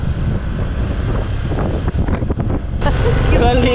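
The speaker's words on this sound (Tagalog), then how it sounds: "Lakas ng alon." Wind buffets the microphone over a rushing wash of strong ocean waves at Arteche, Eastern Samar, Philippines, loud and close, with brief talking mixed in and a gustier surge near the end.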